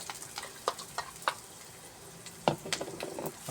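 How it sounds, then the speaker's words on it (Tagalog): Onions and garlic sauté in a little hot oil for pancit bihon, giving a steady soft sizzle with scattered sharp crackles and stirring clicks, close up, with no talk. "Yan, gigisa natin yung sibuyas at saka bawang."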